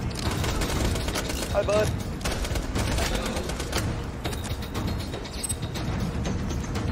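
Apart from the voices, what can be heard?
gunfire in the video game Borderlands 2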